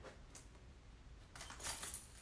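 Truck keys jangle faintly in a short metallic rattle that comes in brief bursts near the end, with no voices over it.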